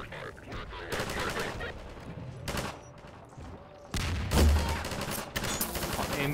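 Gunfire in Half-Life 2 inside the Citadel, repeated bursts of rapid shots in clusters with short pauses, loud and close, with a player's voice talking over it at times.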